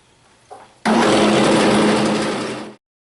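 A wood lathe turns a billy club while a skew chisel cuts the spinning wood, a brief tap followed by a loud, close, steady whirring scrape lasting about two seconds, then silence.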